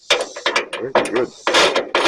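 A ratchet skips while the hood bolts on a GMC truck are snugged down, giving loud, close clicking bursts in about five quick, evenly spaced pulls.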